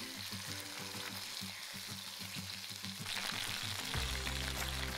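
Pork fries in a pan with a steady close sizzle and hiss, a few soft stirring or scraping touches, and no voices.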